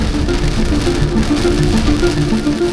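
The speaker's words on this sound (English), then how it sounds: "next minute it's absolutely bucketing down with rain" Heavy rain pours down steadily in the rainy season in Darwin, a dense, loud, unbroken hiss that fills the whole stretch, with a faint tonal hum running underneath.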